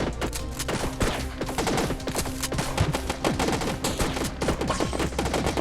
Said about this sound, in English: Okay, we got these plants shooting at us.